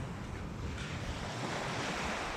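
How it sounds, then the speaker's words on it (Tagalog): Big ocean waves break and wash continuously along an island shore, a steady loud roar of surf with wind buffeting the microphone and no voices. "Ang lalaki ng alon eh"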